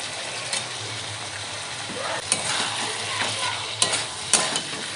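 Chicken and cut potatoes sautéed in a pan on a low flame for chicken singara filling, a continuous close sizzle punctuated by several sharp scraping stirs of the spoon.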